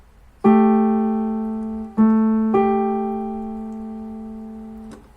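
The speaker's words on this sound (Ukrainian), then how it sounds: "Це мала септіма" A minor seventh rings out on a piano, struck three times, each two-note chord sustaining and slowly fading in a quiet room.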